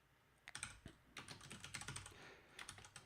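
Fingers type on a computer keyboard in quick irregular bursts of close, crisp key clicks, with a short pause near the start and no voices.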